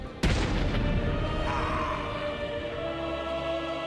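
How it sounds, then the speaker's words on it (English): A sudden loud blast from explosions in Batman: Arkham City hits at once, then a rumbling, crackling debris tail fades out slowly underneath, close and heavy. "he sets off some explosions"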